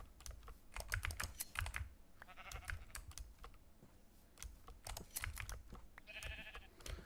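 Sheep bleat in a survival video game, two short bleats heard faintly, while rapid computer keyboard typing clatters close and loud throughout.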